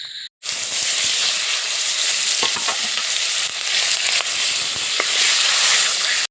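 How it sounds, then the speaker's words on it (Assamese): Fish fat fries in a hot pan, a loud, continuous crackling sizzle that bursts in after a brief quiet start and spits and pops throughout. "মাছৰ চৰ্বিখন ফাৰ্ষ্টতে দি লৈছোঁ। এনেকৈ এইখন ভাজি ল'লোঁ"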